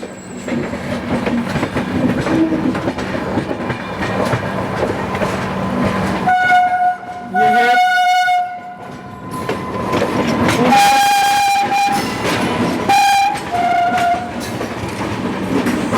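The Pune–Hatia Express rumbles past on the crossing track, a loud, close rolling clatter of wheels over rail joints, with sustained horn blasts sounding in the middle and toward the end.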